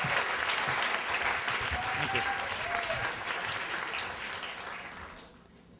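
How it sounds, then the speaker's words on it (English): A comedy club audience applauds as a comedian is brought up, dense clapping and crowd noise that holds steady then fades away, with someone briefly speaking over it. "Everybody, give him a round of applause."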